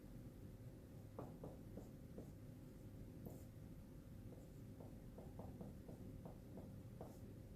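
Marker or chalk writing on a board while working a separable differential equations example: short scratchy strokes in irregular bursts, fairly close, over a steady low room hum, with no talk.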